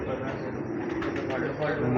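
Pigeons of a long-kept fancy breed coo softly in a loft, a low continuous murmur underneath someone speaking over them.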